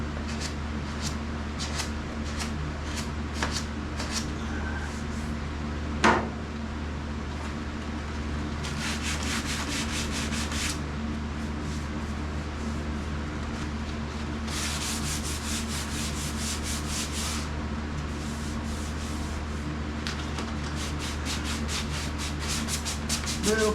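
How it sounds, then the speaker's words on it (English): Hand sanding on a car hood, with steady rubbing strokes repeating across the whole stretch, some bursts brighter and harsher than others, over a constant low hum from the surroundings, with no talk. "I'll just go out and hand sand that hood out there."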